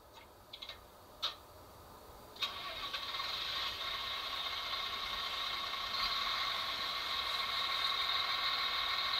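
A PIKO HO Sprinter light rail model train with its motor sound function switched on: a few faint clicks, then a steady, quiet mechanical whir that continues unbroken.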